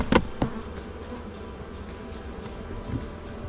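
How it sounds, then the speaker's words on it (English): Honey bees buzzing during a beehive inspection, a continuous close swarm drone with a few sharper knocks from handling the hive, and no talk. "There's the rest, or most of the rest of the bees."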